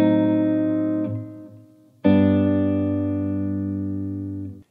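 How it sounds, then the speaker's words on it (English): A diminished seventh chord rings out twice, each a sustained tonal sound that slowly decays, with the second one struck louder after a short gap, clean and alone with no talk. "Diminished chords, as you can hear, are dissonant, and so they need to resolve into another chord."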